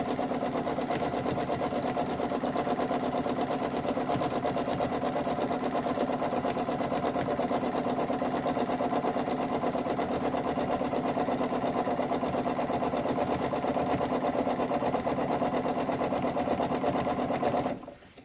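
A sewing machine free-motion quilting a pebble pattern on a poinsettia Christmas quilt runs as a loud, steady, even mechanical hum with a constant stitching buzz, alone for about seventeen seconds before abruptly stopping.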